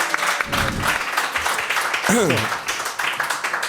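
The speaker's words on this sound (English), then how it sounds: "Let's get a round of applause for Nan" An audience applauds in a short, fairly loud burst of clapping, with voices and a brief whoop mixed in over the claps.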